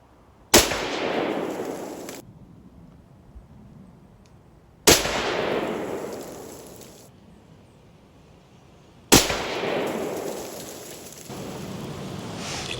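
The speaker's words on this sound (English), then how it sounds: "that was 9 rounds in succession" Rifle shots from a Seekins Precision Havak PH2 firing 147-grain Hornady rounds, three sharp loud reports spaced about four seconds apart, each trailing off in a long outdoor echo.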